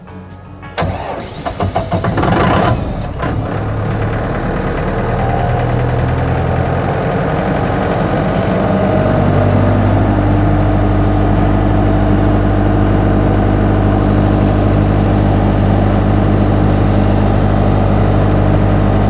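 A Datacom generator cranks briefly, catches, and then settles into a loud, steady running drone, heard close with no talking.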